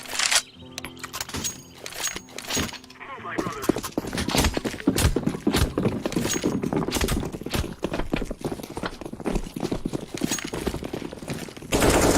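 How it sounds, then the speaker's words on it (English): Rapid gunfire bursts from the video game CS:GO crackle through most of the stretch, loud and dense with sharp repeated shots, while a voice talks over parts of it. "Laying down some fire."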